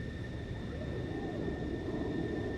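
Airplane engine in a video game, a steady faint droning hum with faint whistling tones holding constant throughout.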